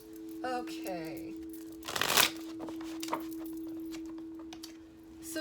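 Tarot cards being shuffled by hand in a quiet room, one brisk riffle burst then softer card slides and taps, with someone talking over a constant faint electrical hum.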